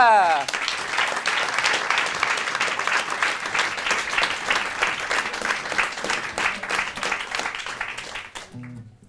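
Loud, sustained applause from a studio audience for a guest singer on a French TV show, dense clapping filling the room for several seconds before cutting off abruptly near the end.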